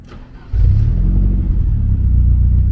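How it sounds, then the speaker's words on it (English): A Mercedes W201 engine cranks briefly, then catches and starts about half a second in, settling into a loud, steady low rumble that continues close by without any talk. "So I'm gonna start this car up."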